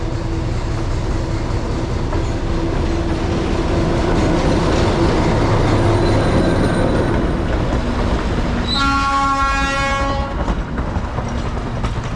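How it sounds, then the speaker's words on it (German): A slow train approaches through the Peruvian jungle, its rumbling wheels and clatter building steadily before a loud multi-tone horn blares near the end and rings over the rolling noise. "Da sich der Zug schon von weitem lautstark ankündigt und auch nicht besonders schnell ist"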